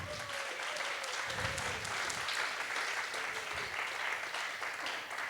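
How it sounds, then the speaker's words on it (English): Warm audience applause at a regional poetry slam final, dense clapping from a sizeable crowd sustained for several seconds, with a faint tonal whistle or cheer drifting underneath and no speech. "Please welcome to the stage with a warm, warm round of applause"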